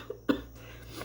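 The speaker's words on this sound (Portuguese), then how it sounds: "Desculpa aí porque eu ainda estou tossindo." A single short cough from a person, close and abrupt, followed by quiet breathing and low background hum.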